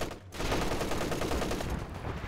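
An MG34 machine gun fires in the real-time strategy game Company of Heroes 2, a steady rapid rattle of automatic fire heard from moderate distance, with no talk over it.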